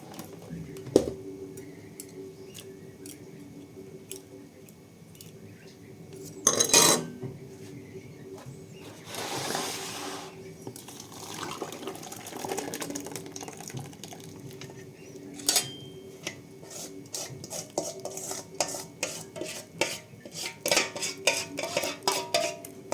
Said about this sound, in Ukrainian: Виляла сюди молоко і так все разом перемішаю